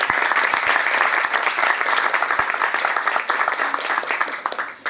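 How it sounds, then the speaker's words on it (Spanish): An audience at an autism spectrum disorder training session breaks into sustained applause, a full, even wash of many hands clapping for about five seconds before it begins to thin out. "otro aplauso nuevamente para Lorena y para Victoria"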